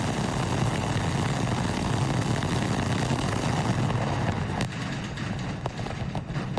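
A SpaceX Starship prototype rocket lifts off with a loud, continuous roar of broad rumbling noise. The roar holds steady throughout and eases slightly near the end.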